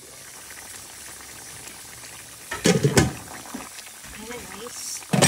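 A cooking pot with taro bubbles at a steady boil in a home kitchen, a soft continuous simmer with a few louder bursts of activity toward the middle and end, while a person talks over it.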